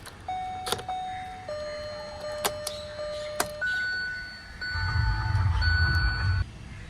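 Kia Cerato fourth-generation facelift key turned in the ignition, bringing on a series of electronic dings and beeping tones from the accessory power chime, with a low rumble of background noise toward the end.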